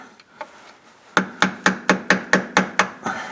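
A screwdriver is tapped to drive a transmission seal into a 2003 Chevrolet Impala, giving eight sharp, evenly spaced metallic knocks, close and loud, after a couple of lighter taps.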